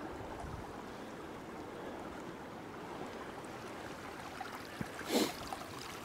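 Floodwater rushing down flooded ATV tracks in the bush, a steady soft wash of flowing water throughout, with a brief louder splash or rustle near the end.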